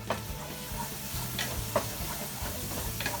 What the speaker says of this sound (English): we are going to stir it nicely